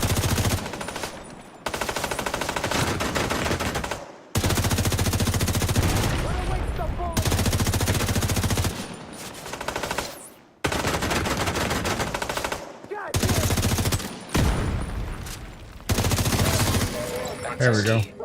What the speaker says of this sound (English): Just shoot him in the face for a while.